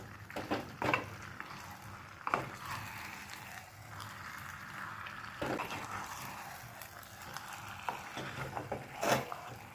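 Handi chicken with ground dried chillies fries over a medium flame, with quiet sizzling and intermittent scraping stirs against the pot at a soft, close level.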